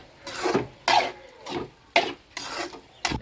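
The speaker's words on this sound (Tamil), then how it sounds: "தேவையான அளவு போட்டு நல்லா கிண்டி விட்டுக்குவோம்." A spoon scrapes through tomato curry with squid in a pan, giving about six separate rasping strokes, close and moderately loud, with short pauses between them.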